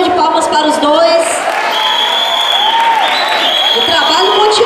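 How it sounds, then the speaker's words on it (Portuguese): At a student dance showcase in Itapetinga, Bahia, a crowd applauds steadily, with scattered whoops and cheers rising over the sustained clapping. "Uma salva de palmas para os dois."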